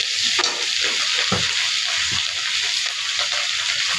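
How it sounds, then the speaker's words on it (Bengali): Prawns fry in a pan with ginger garlic paste, a steady loud sizzle with scraping spoon strokes stirring through it, no voices. "চিংড়ি মাছটা একটু ভেজে নিলাম। এখন দিব একটু আদা রসুন বাটা"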